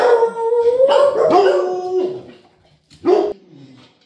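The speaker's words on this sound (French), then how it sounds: "mes chiens se sont mis à aboyer" Several pet dogs bark and howl indoors at home, a run of loud, drawn-out yelps over about two seconds, then a pause and one more sharp burst near the end.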